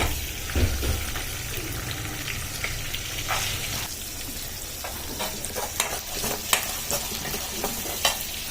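Pigeon pea beans hit a hot pan and are stirred, producing a continuous close sizzle broken by repeated clinks and scrapes of a spoon against the pan.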